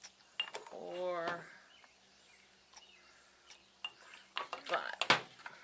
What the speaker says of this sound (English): And give it a little stir, make sure it's saturated really well.